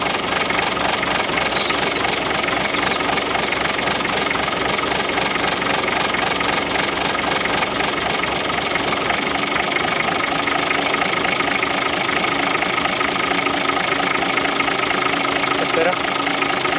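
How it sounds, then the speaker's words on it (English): A Toyota Land Cruiser, an old Australian work vehicle left parked for years on a dairy farm, idles very low with a dense, steady, slightly knocking engine rumble that runs unbroken and close throughout. "Idling very low."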